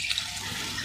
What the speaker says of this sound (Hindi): इसमें हम पानी ऐड कर देंगे।